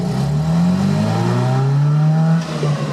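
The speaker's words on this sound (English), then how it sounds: "I'm just gonna mash the throttle." A Datsun Roadster 1600 pulls away hard from first gear under full throttle, its engine note rising steadily and loudly with a raspy, throaty tone before easing off near the end.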